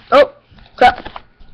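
A pet dog gives two sharp, loud barks about half a second apart, indoors and close to the microphone, with quiet room noise and faint rustling between them.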